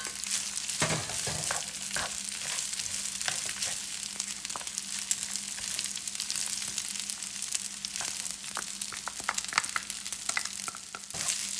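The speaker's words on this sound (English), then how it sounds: "Now add the rice to the pan and then add the garlic." Rice and garlic frying together in a pan for longganisa fried rice, a loud continuous sizzle and crackle with occasional scrapes and stirring knocks up close.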